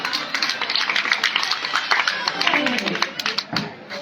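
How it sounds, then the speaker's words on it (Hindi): Applause from the audience at a Ramleela staging of Sita's swayamvar, dense, steady clapping running for several seconds at a moderate distance, with voices mixed in throughout. "एक बार उनके लिए जोरदार तालियां हो जाए"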